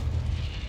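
Incendio fire spell cast in a wizarding video game, a short dense burst of roaring whoosh, loud and brief, with no talking over it.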